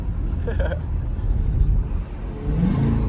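Corvette C8 driving through the Hollywood Hills, its engine a steady close rumble with a slight rise in revs near the end, with a voice talking over it.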